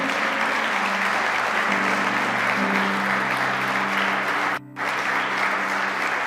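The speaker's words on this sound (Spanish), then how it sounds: "Aplauda al Señor." A church congregation applauds during a Spanish-language sermon, a dense, even wash of clapping with a low hum beneath it, broken by one sudden brief dropout near the end.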